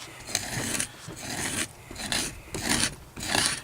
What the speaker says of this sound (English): I'm going to hold it at an angle like this,